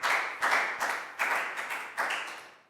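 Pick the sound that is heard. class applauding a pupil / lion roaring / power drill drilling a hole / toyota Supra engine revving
class applauding a pupil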